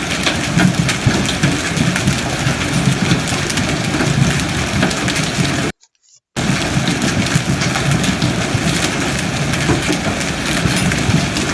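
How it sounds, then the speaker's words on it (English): Heavy rain and hail pound down steadily during a severe evening thunderstorm in El Paso, a dense, loud roar broken by a half-second gap of silence midway. "an evening of severe thunderstorms that produced significant hail"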